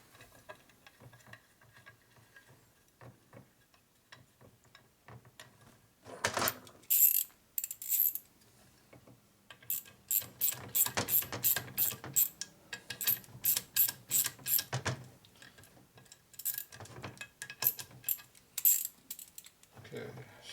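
A ratchet tightens screws on a 1942 Harley-Davidson WLC/WLA 45ci four-speed transmission being rebuilt with NOS parts. It clicks in several quick bursts of ticking strokes separated by pauses, moderately close and alone.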